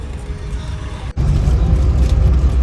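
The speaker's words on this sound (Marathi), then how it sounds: "मेन हायवे वरती आलोय आता आपण. कसं काय ट्रॅफिक जाम आहे." Traffic jam on a main highway: a continuous low engine and road rumble from inside a vehicle, with a brief dropout and click before the drone returns louder and steady.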